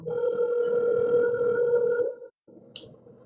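A telephone ringback tone purrs steadily for about two seconds on a call, then breaks off into a brief gap and quieter line noise with a small click near the end.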